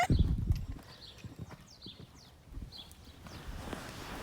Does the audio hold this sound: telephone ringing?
no